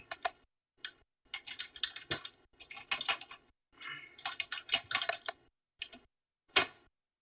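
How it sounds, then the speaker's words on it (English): Someone types a file name on a computer keyboard in irregular runs of crisp, close clicks, separated by short pauses and ending in a single firm keystroke, with no talking. "And we're going to type in the name of it."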